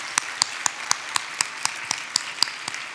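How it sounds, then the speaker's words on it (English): Applause for project finalists at a charity challenge finals event, heard as a steady run of sharp, evenly spaced claps with a light wash of crowd noise beneath. "how about another round of applause for all 3 of our project finalists?"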